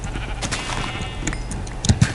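Sheep in Minecraft bleat amid busy in-game ambience, with several short, nasal bleats at close range and a louder cluster near the end.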